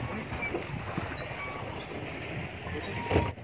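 Rented boat out on the lake at Birsa Biological Park near Ormanjhi, Ranchi, with steady water and wind noise throughout and a brief louder splash or knock near the end, voices faintly mixed in.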